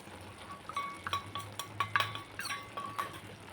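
Chilli powder stirred into field bean (moochai) gravy in a pot: a run of sharp, irregular metallic clinks and scrapes of a spoon against the vessel, close and fairly quiet, with no talking.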